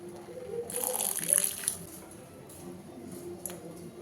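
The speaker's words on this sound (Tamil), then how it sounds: "கொஞ்சமாக நம்ம வந்து தண்ணி ஆட் பண்ணிக்கலாம்" A short splash of water poured into a pan of cooking Maggi noodles, briefly bright and hissing, then settling into a low background hum.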